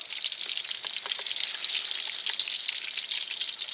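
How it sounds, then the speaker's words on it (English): Food sizzles and crackles steadily in a hot pan, a constant bright frying hiss with small pops, close by and uninterrupted. "whilst that's frying"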